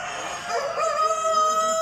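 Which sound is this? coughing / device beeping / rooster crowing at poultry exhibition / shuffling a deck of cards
rooster crowing at poultry exhibition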